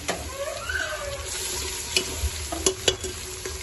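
Spices with chilli frying in a pan for a dal and bottle gourd dish, a steady sizzle with a few sharp stirring knocks, no talking.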